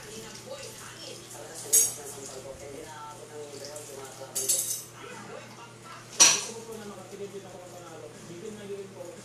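Plates and cutlery clinking while dishes are washed, three sharp clanks standing out over a low kitchen hum, with voices talking nearby.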